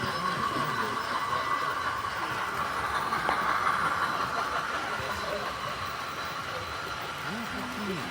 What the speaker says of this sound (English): that train's coming